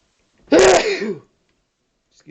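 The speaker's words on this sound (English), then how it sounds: "I'm gonna sneeze here." A single loud, close human sneeze bursts out and trails off briefly, followed by quiet.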